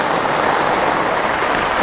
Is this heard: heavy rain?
yes